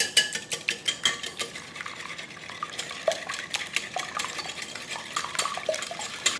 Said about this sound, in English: Give them a whisk.